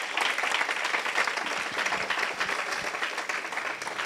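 Church congregation applauding the Lord, a dense continuous burst of clapping from many hands filling the room, with faint voices mixed in.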